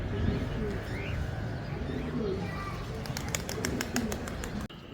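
Pigeons cooing nearby in a loft or yard, soft repeated low coos under a busy, noisy background with a few sharp chirps near the end.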